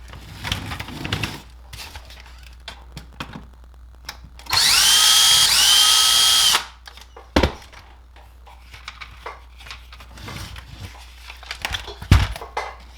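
Power driver backs screws out of a Traxxas Maxx RC car kit: one loud, steady whir of about two seconds in the middle, surrounded by quiet handling clicks and knocks of plastic parts.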